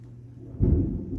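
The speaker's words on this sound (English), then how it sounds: "Sorry about the thunder in the background" Thunder from a Florida storm rolls in as a deep, low rumble that swells suddenly partway through and lingers, distant and heavy, with no talking.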